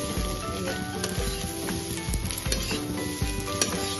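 Food sizzles and fries steadily in a pan during festive home cooking, with occasional clinks of a utensil stirring against the metal and a dense crackling hiss running throughout.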